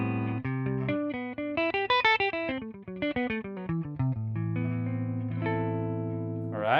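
An electric guitar plays a clean tone with slight breakup through a captured 1967 Twin Reverb amplifier. Plucked notes and chords ring out in a lively run, then settle into a sustained chord, alone and up close.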